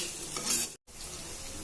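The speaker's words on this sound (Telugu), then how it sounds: "వేసుకొని ఒక 2 మినిట్స్ అలా ఫ్రై చేసుకోవాలండి. మొత్తం కలుపుకోవాలండి ఒక 2 మినిట్స్ బాగా." Sliced bitter gourd and onions frying in an oil-filled pan, a close crackling sizzle with scraping stirs, briefly cutting out to silence midway before the frying hiss resumes.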